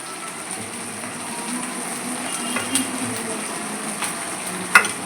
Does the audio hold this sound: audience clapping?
no